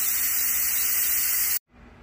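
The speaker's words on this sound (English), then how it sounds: "the pressure is releasing and I just wanted to turn my pot so that it wouldn't get my upper cabinets there with that steam" An electric pressure cooker vents steam in a loud, steady, close hiss that cuts off abruptly, leaving quiet kitchen background.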